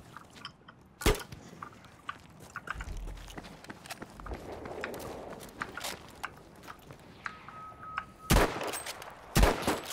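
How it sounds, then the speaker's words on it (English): Gunfire in the Battlefield 5 video game, with a few sharp, loud shots spaced irregularly across a busy battle ambience and a closing cluster of heavy reports near the end. "He's shooting at me."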